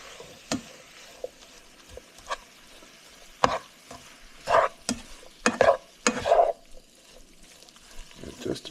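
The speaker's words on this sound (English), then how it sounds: "Give it another quick stir." Chicken and sausage ramen stir fry stirred in a pan, with brief scraping and clattering strokes that come in irregular bursts over a faint sizzle and grow busier toward the middle.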